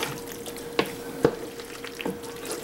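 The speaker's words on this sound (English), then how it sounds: "take your wooden spoon or any utensil that you stirred the pasta with and just fold in that beautiful cheese sauce" A wooden spoon folds cheese sauce through macaroni in a kitchen, giving soft wet stirring and squelching with a few sharper scrapes and clicks against the pot, close and fairly quiet.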